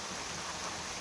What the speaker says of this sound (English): Until the rain at least lets up a bit.